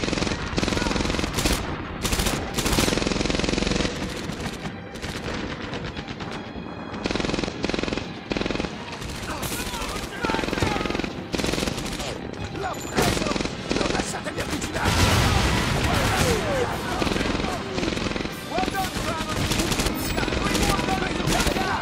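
Automatic weapons rattle in rapid bursts through a Medal of Honor: Airborne firefight, loud and close, with gaps between volleys and a heavier, sustained stretch of fire partway through.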